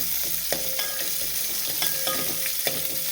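Chopped green chillies fry in a little oil, hissing softly and steadily while a utensil scrapes and stirs the pan several times.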